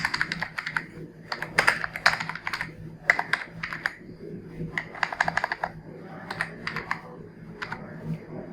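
Keys clatter on a computer keyboard as a remark is typed into an eOffice file-forwarding form, coming in quick bursts of clicks separated by short pauses, close and fairly loud over a faint background hum.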